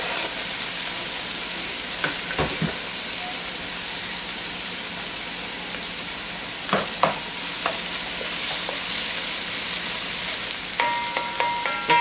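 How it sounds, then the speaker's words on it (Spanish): Chopped onion browning in a pan with garlic just added, a steady broad sizzle running throughout, broken by a few sharp clinks of a utensil against the pan. "una vez que está dorándose la cebolla, le vamos a agregar el ajo."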